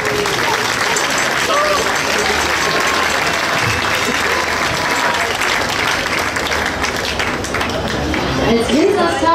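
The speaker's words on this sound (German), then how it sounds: "das ist doch ein Applaus." Loud, sustained applause from a crowd at a German wine-region event honoring a regional wine ambassador, following a show dance group's performance; dense clapping fills the whole stretch with some voices mixed in.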